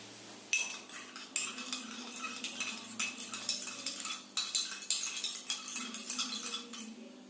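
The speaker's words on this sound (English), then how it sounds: "again I am just stirring it with spoon" A metal spoon stirs chalk powder into a glass of water, clinking steadily against the glass in rapid, repeated taps, close and fairly quiet, with no talking.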